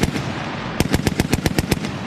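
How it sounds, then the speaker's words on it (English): A burst of machine gun fire on the new multi-purpose machine gun range at the Army National Guard's Camp James A. Garfield in Ravenna, Ohio: after a noisy lead-in, about nine sharp, evenly spaced loud shots ring out in quick succession. "The Guard's new multi-purpose machine gun range opened this morning at Camp James A. Garfield in Ravenna."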